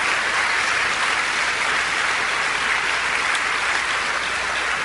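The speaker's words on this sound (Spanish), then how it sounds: "¿Por qué no le dan un aplauso al Señor?" A church congregation claps together in loud, continuous applause, a dense and even patter that holds steady from start to finish with no talk over it.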